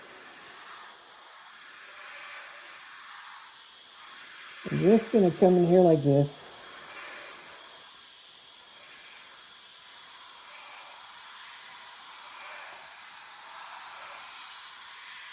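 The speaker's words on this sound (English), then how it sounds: "I'm going to spray on a nice wet coat." Airbrush spraying a wet coat of heavily thinned paint, about 90% thinner, onto an Italeri 1/32 F-104 model kit; a steady soft hiss runs throughout, with someone talking briefly partway through.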